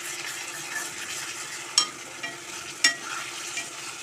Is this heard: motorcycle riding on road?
no